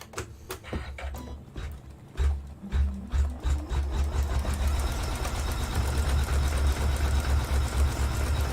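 An embroidery machine stitches a tiny zigzag on a stained-glass poppy design, opening with a few separate needle taps, then settling into a fast, even mechanical chatter at close range without talking.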